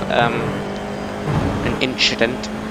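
Formula 4 race car engine in iRacing, running in a slipstream: a steady engine tone with a few brief higher-pitched bursts, heard under someone talking.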